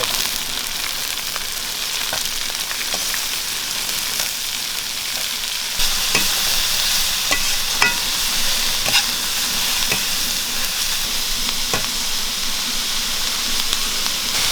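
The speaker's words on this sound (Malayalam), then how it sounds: "ഒരാറ് പച്ചമുളക് ഒന്ന് ഇളക്കി" Green chillies for chicken curry stirred and frying in a pan give a steady, close sizzle, with soft scraping stir strokes surfacing now and then and a slight rise in intensity halfway through; no one speaks.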